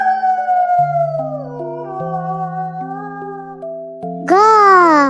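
Jackal howling, a rising and falling wail that sweeps upward loudly near the end, over a steady musical backing of sustained tones.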